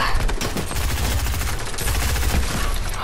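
Video game gunfire rattles in rapid, overlapping bursts, loud and close, a dense stream of shots with heavy low thumps running unbroken through the whole stretch.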